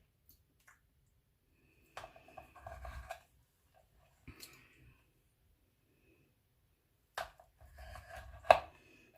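A knife cuts a slice of homemade apple cinnamon cheesecake, giving a few quiet, close scraping and pressing sounds in separate short bursts with silence between them.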